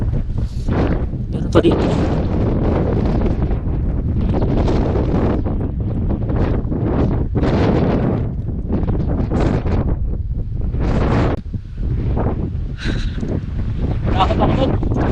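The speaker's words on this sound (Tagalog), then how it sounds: "ang lakas ng hangin dito" Strong wind buffets the microphone continuously at a roadside spot during a search for a copper ore vein, a loud rough roar with gusty surges while someone speaks briefly.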